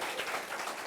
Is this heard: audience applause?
yes